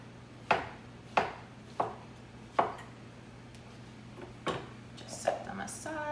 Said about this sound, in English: then we're going to slice up about 3 cups of mushrooms